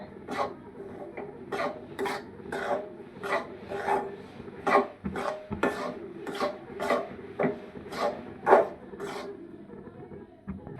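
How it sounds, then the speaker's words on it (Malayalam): Semolina for upma being stirred in a pan, a rhythmic series of about a dozen dry scraping strokes of a spoon against the pan, evenly spaced and fairly close. "റവ നമുക്ക് ഒന്ന് മിക്സ് ചെയ്ത് കൊടുക്കാം കേട്ടോ."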